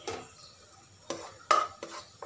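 Chopped garlic goes into Kerry butter in a pan, with a few separate scraping and clinking stirs of a utensil against the metal and a faint sizzle between them.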